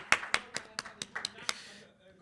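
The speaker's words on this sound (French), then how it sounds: "On applaudit le gars qui vient d'arriver." About seven separate, spaced hand claps from a small audience at a JRPG fan club convention panel, welcoming a newly arrived independent developer, sharp and fairly close, then fading to quiet.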